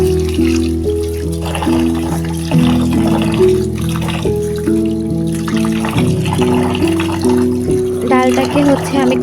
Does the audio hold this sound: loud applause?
no